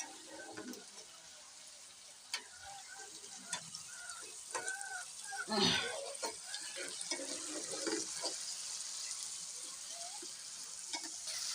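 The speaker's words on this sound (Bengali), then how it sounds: "কাঁচামরিচ দিয়ে মশলাটাকে সম্পূর্ণ কষিয়ে নেই" Masala with green chillies fries for a Bengali dish of taro greens with hilsa fish head, a soft steady sizzle broken by occasional spoon scrapes and stirs at low level.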